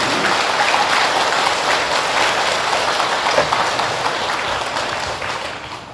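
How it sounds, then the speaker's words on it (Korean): Audience applause during a Buddhist dharma talk, a dense, sustained burst of many hands clapping that fades slightly toward the end. "항상 법체에 건강하시라고 큰 박수 한번 보내주시기 바랍니다."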